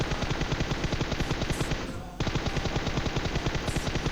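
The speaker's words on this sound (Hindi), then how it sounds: "यहाँ पर मुझे अब चारों तरफ से फायरिंग वगैरह के साउंड्स आने लगे थे" Rapid automatic gunfire in the mobile battle royale game PUBG Mobile, loud sustained bursts of regular shots with a brief pause near the middle before the firing resumes, no talk.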